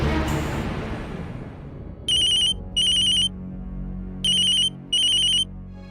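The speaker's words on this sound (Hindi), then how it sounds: "कनिका का फोन" A telephone ringtone sounds in loud repeated electronic bursts, two pairs of rings with short gaps between them, playing over a low dramatic background score in a Hindi TV serial scene.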